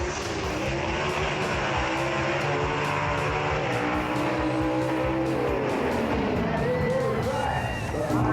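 Gasser drag race cars in the A-Gas class thunder down the strip at Union County Dragway, a loud, steady engine roar with rising pitch sweeps, heard at full volume with commentary talk over it.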